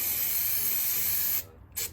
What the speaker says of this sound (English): we're just going off and spraying it